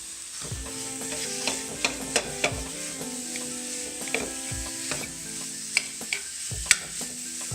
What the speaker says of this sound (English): I'm going to put my sausage in the skillet and brown it up